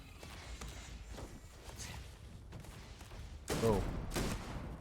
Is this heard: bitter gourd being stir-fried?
no